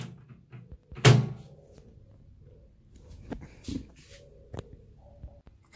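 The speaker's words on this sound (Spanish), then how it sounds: "Abrimos y cerramos la puerta y el foco no enciende" A microwave oven's door opened and shut while checking a short circuit: one sharp loud clack, then several softer knocks and latch clicks scattered over a quiet background.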